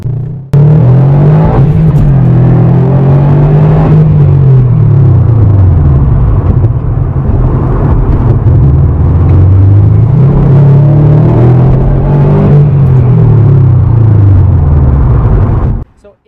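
2018 Subaru WRX STI drives on curvy roads, its engine a loud, continuous in-cabin drone whose pitch rises and falls with the turns.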